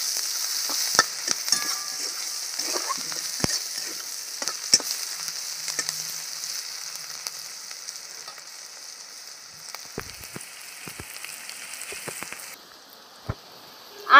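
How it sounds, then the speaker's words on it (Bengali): Chopped onion fries in a pan with a soft, even crackling sizzle, dotted with occasional stirring clicks and scrapes, fading slightly toward the end. "পেঁয়াজ কুচি দিয়ে দিচ্ছি, পেঁয়াজটা একটু লাল করে ভেজে নেব"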